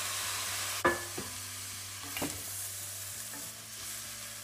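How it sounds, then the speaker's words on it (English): Onions sweat in a pan for scicatta, a soft close sizzle broken by a few sharp scrapes and taps of a utensil against the pan. "Now the onions are sweating away here."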